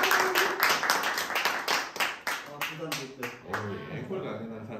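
An audience at a knowledge-sharing lecture claps to welcome a poet to the stage, a short burst of close, uneven hand claps that fades out over a few seconds.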